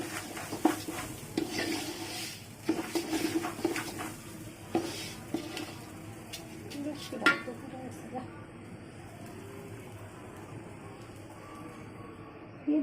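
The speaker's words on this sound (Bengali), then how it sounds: "এই চুলায় আমরা চাল ভাজতে দিলাম" Polao rice is fried and stirred in a pot on a stove, with scraping and clinking of a spoon against the pot in uneven bursts alongside a soft sizzle, close up, partly under a voice talking.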